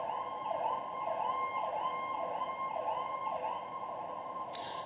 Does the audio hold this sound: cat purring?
no